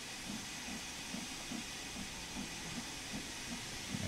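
Steam hisses in a continuous wash from the open cylinder cocks of a steam locomotive in Train Sim World 2, with soft rhythmic chuffs pulsing underneath at a steady pace.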